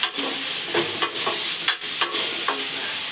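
Green beans for sambar being sautéed in hot oil in a pan, with a steady sizzle and scraping spoon strokes every half second or so, close by, no voices.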